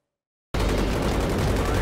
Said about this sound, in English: it looks as though we have some sort of AA gun firing